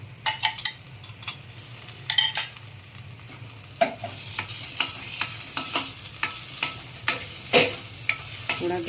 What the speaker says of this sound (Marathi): मसाला बऱ्यापैकी परतला आहे